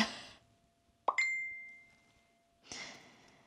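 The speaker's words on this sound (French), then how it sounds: "ça c'est les notifications" A phone notification chimes on its own: a short clean plop and a sustained bright ding that fade out, set between two soft rustling noises.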